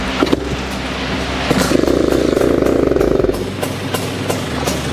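A Kawasaki Ninja R two-stroke motorcycle engine fires up with a few sharp cranking clicks and sputters, then settles into a loud, close, buzzing idle before it drops away.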